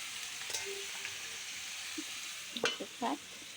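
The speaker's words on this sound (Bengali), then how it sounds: "মশলাগুলো কষিয়ে নিই" Spices and chillies sautéing in a frying pan, a soft steady sizzle underneath occasional scrapes and knocks of a spoon stirring, with a couple of louder stirring bumps near the end; no voices.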